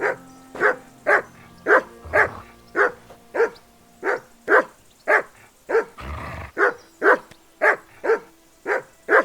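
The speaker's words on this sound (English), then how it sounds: "That barking was a pain in the ass." A dog barks in the video game Kingdom Come: Deliverance 2, a steady series of loud, evenly spaced woofs repeating roughly twice a second, with a brief rustle midway.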